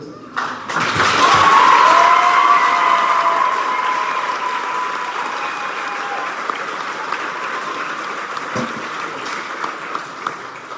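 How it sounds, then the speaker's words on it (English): A graduation crowd at Little Falls CEC applauds the director, the clapping swelling loudly in the first seconds and then settling into a steadier, slowly fading patter with a few sharp thuds. "huge round of applause for Kristen"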